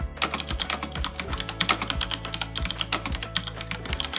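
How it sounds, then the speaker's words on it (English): Rapid, steady typing on a computer keyboard at an airport passport check, crisp close key clicks in a quick irregular patter with no talking. "Why is she typing so much?"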